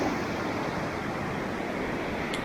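A river flowing close beside a mountain campsite near Algonquin Peak, New York, its broad, even rush of water holding steady and fairly loud throughout with no breaks.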